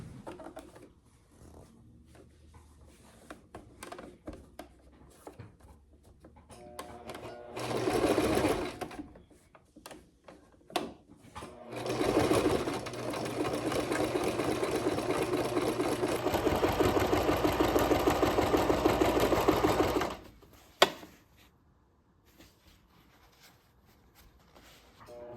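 A sewing machine runs a straight back seam on a vest, starting with short bursts of stitching, then a long steady whir of about eight seconds before stopping, with a few faint handling clicks around it.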